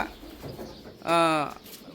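A single pigeon gives one short, tonal coo in a room where Saudi white and black pigeons are kept apart, heard close and clear between stretches of faint background noise.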